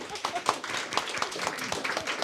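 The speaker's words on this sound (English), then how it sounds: "One applause for that." Brief scattered clapping from a small meetup audience at a Women Techmakers Hamburg event hosted at Google, a few claps rising over murmuring voices for about two seconds.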